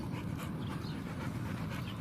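Stray dogs pant near an elementary school, a rapid, breathy, rhythmic huffing heard up close and continuous with no talking over it.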